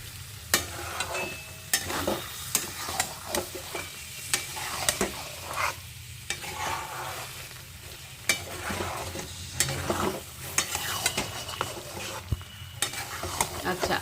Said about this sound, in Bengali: ভালো করে কষানো হবে পোস্তটা কোনো কাঁচা গন্ধ থাকবে না